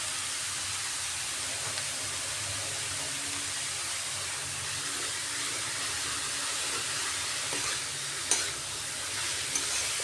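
Spices frying with kohlrabi and prawns, a steady close sizzle and hiss with faint stirring scrapes and a couple of small clinks near the end.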